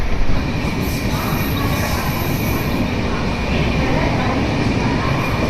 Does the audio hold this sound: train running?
yes